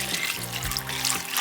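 Vinegar is poured over a large heap of roughly chopped onions, giving a steady close trickle of liquid with faint low kitchen hum beneath.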